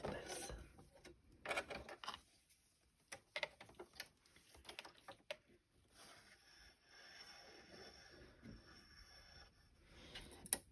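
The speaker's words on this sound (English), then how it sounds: "Now I should be able to auto thread this." A sewing machine's auto-threader clicks and ratchets softly at close range, threading polyester thread through the needle during work on a patchwork tote bag, with faint mechanical ticks and handling noises and no talking.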